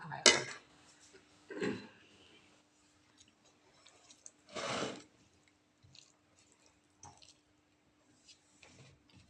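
Soft, close chewing and wet squishing while eating spicy fish curry, in sparse bursts with quiet pauses between bites and no clear speech.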